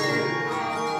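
A handbell rings in a group listening exercise, its bright tone holding steady with clear overtones and no gaps or fresh strikes through the short stretch, alone without any voices.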